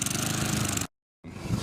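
A running lawnmower engine outdoors: a loud, steady, pulsing drone that cuts out abruptly into brief silence, then resumes at a similar level.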